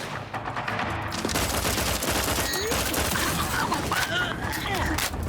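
Sustained bursts of weapon fire striking an enemy in The Outer Worlds 2, dense and loud, layered over game ambience with chirping effects and no voices.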